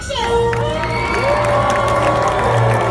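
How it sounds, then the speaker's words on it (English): Studio tour audience at Universal Studios Hollywood cheering loudly, with many voices shouting and whooping, high excited cries rising over a dense crowd roar and some clapping, all close and sustained throughout. "I want this side to put your hands together and make as much noise as possible."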